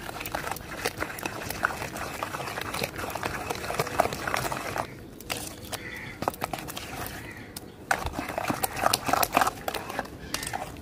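A spoon works grated raw mango together with spices in a bowl, making continuous close wet scraping and squelching with brief pauses.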